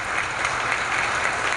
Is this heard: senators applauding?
yes